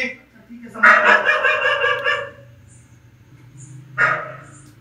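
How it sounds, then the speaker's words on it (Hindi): A dog barks indoors in a room, a burst of several loud, close barks followed by a pause and then one more bark, with a faint low hum underneath. "कमरे में क्यों भौंक रहा है ये?"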